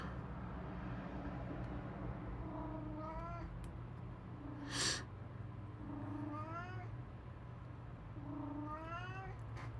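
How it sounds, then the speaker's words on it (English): A pet cat named Beavis meows repeatedly indoors at its owner, several rising, drawn-out calls spaced over a steady low background hum, with one sharp brief noise in the middle. "Hear my cat meowing at me."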